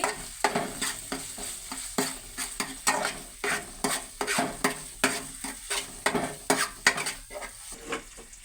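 Ginger garlic paste fries in a pan for carrot rice while a utensil stirs and scrapes in quick, repeated strokes over a soft background sizzle, close and clear.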